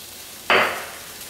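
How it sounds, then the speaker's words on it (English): Pork belly sizzling in a hot pan, a sudden burst of frying hiss that starts loud and tapers off over about a second, with no talking. "You can hear the pork starting to sizzle now."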